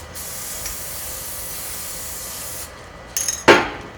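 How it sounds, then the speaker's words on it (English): A steady hiss of aerosol spray runs for a few seconds, stops, then a couple of short, sharper sprays burst out up close. "it can be used as a temporary spray"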